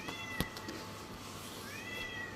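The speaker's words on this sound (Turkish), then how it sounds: "Akıllı bir kedik." A cat gives a couple of short, faint meows with a brief sharp knock early on, set against quiet room background with no talk.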